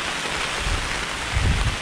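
Steady heavy rain hisses on surfaces at a campsite while gusts of wind rumble low underneath, rising briefly in a stronger blast.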